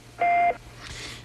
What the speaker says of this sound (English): Speaking after the beep.